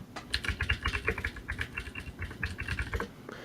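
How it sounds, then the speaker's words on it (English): Quick bursts of clicky keystrokes come from a mechanical keyboard with MX Blue switches, typed at close range with an uneven rhythm and short pauses between runs. "The typing sounds like from a sound effect from a TV show."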